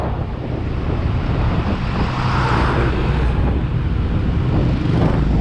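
Road traffic in a town, a steady roar of passing cars close by with a rough, wind-buffeted rumble that holds throughout, with no voices.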